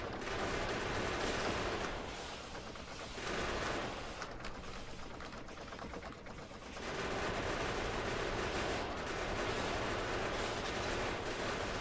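Massed gunfire rattles against behemoth enemies in Factorio 0.15 on an extreme death world map, a dense and continuous barrage that dips briefly midway and then surges again, with no talking.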